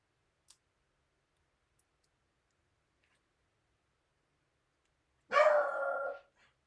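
A single short dog bark rings out near the end after a long stretch of near silence, with a couple of faint clicks earlier.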